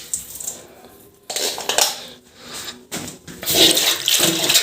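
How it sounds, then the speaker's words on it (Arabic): Water splashes and runs over a washing area at home, with dishes and pots clattering alongside; the rinsing comes in bursts, louder near the end, with no talking. "الاول هشطف المكان اللي هغسل فيه الاول"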